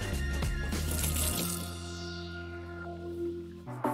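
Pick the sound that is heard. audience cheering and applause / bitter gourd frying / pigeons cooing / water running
water running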